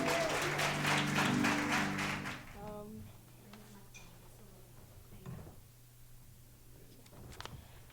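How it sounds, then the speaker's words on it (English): Audience at a Black History Month lecture event claps for salsa dancers in a brief burst that fades after a few seconds, leaving a quiet room with faint tones and scattered small noises. "let's give a nice round of applause for the Veritas dancers as they get ready to come to the stage"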